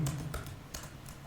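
A few quick keystrokes on a computer keyboard as a command is typed into a terminal, soft close clicks in a short burst with small gaps.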